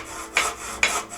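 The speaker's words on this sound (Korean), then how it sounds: "여기저기에서 톱질하는 소리와 망치질하는 소리가 들렸습니다." Wood being sawn by hand, two distinct rasping strokes about half a second apart, close and fairly quiet.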